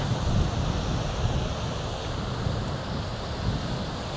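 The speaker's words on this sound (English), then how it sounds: "There's another quick shot of the beach." Steady surf washing onto the beach at Mil Palmeras on the Costa Blanca, a continuous broad roar of waves mixed with wind buffeting the microphone, with no voices.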